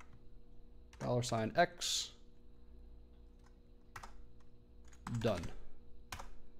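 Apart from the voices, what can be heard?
typing a bash for loop on a computer keyboard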